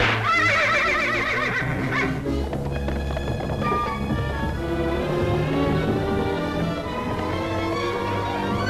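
A cartoon horse neighs and whinnies loudly over a busy musical score, with a long, wavering, rising and falling call near the start.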